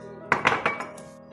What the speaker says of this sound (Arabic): راح استعمل الخفاقة الأثرية مالتي، أحبها